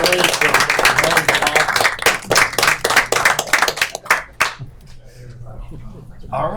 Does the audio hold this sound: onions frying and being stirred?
no